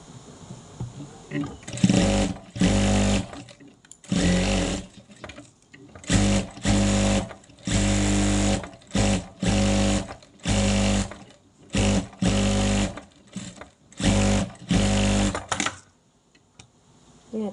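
A sewing machine stitching fabric scraps together, running in repeated short bursts of loud, close whirring separated by brief pauses.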